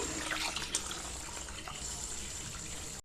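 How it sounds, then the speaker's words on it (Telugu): Water pours steadily into a vessel of washed rice and urad dal set to soak, a close, continuous splashing flow that stops abruptly. "ఇందులో బియ్యం మినపప్పు మునిగేంతలా వాటర్ పోసుకోండి"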